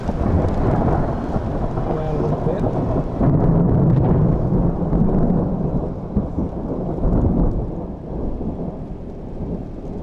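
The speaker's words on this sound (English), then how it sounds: "There was a lightning strike. Camera picked that up." Thunder from a lightning strike rumbles through a mountain snowstorm in New Mexico high country, a loud, sustained, rolling roar lasting several seconds before easing off, with no voices.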